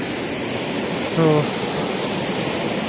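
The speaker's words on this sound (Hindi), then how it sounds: "और यहाँ पे दरिया है, इसका शोर काफ़ी है" A loud mountain river rushing through a valley near Kishtwar, a constant broad roar filling the whole stretch, with a man's brief spoken word rising over it midway.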